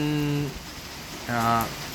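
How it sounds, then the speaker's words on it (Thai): Steady heavy rain from a passing storm with little wind forms a constant hiss in the background while someone talks over it. "พายุเข้านะแต่ลมไม่แรงนะครับมีแต่ฝน"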